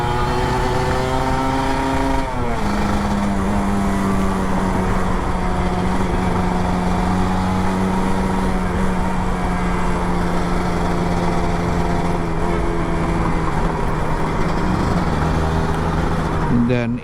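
An old Kawasaki Ninja RR 150 motorcycle engine drones loudly and steadily at close range, its pitch dropping after an early rev and holding while riding.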